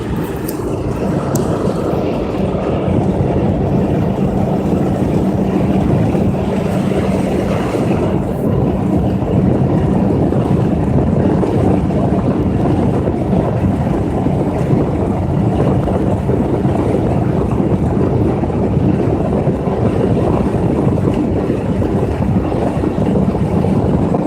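Steady, loud wind roaring and buffeting the microphone for the whole stretch, a continuous low rumble with no voices.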